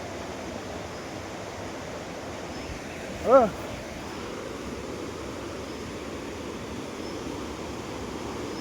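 A river stream in Doorkhola flows with a steady, close rushing of water throughout, while a short spoken word briefly cuts through midway.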